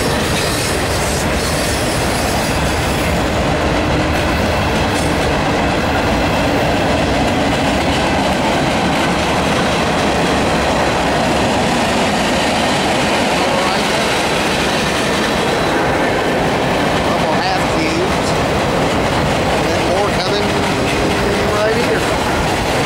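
A Norfolk Southern freight train carrying intermodal cars rolls past close by, with a continuous loud rumble, rhythmic clickety-clack of wheels over rail joints and occasional faint wheel squeal throughout.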